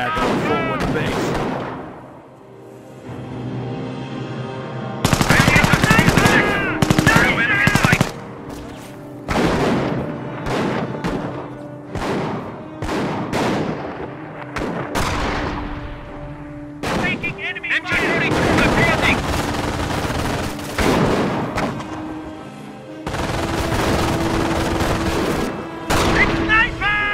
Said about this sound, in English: Rose, we are under fire! The mission is under fire!